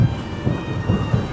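Light rain falls with thunder at Sitakunda Eco Park, making a steady wash of hiss and patter over a low, continuous rumble.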